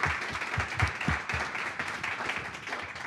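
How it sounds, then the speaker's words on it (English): An audience at a news industry talk claps steadily, a dense, continuous round of applause at moderate distance that holds for a few seconds. "Let's give Julia a round of applause."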